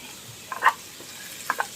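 Garam masala sautés in oil in a pan, a quiet background sizzle broken by a few soft scraping stirs, two clusters of brief close clicks and pops.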